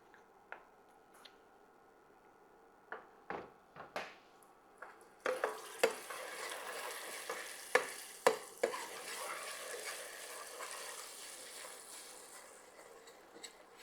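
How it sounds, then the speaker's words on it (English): Butter hits hot caramel in a pan while making walnut brittle, setting off a bubbling sizzle amid sharp stirring clacks, close and mid-loud, with no talk. "now we're adding butter."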